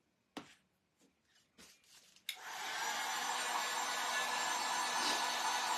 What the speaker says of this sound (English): we're gonna hit this with the heat gun